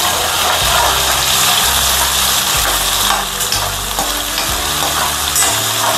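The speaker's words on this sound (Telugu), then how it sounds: "బాగా ఎర్రగా అయ్యే వరకు వేపుకోవాలి." Ginger garlic paste frying in a pan, a loud, steady, close sizzle with bubbling and crackling that carries unbroken throughout.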